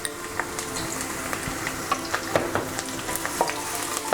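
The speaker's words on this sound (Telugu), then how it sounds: "లైట్గా ఫ్రై చేసుకుందాం." Chopped ginger and garlic fry in hot oil in a kadai, with a continuous crackling sizzle and regular scraping strokes of a spatula, close and fairly loud.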